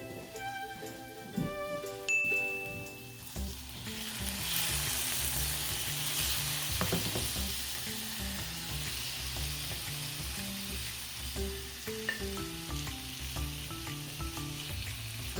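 Beef drops into a hot frying pan and breaks into a loud, continuous sizzle after a few seconds of music, with occasional stirring scrapes as the music plays on underneath.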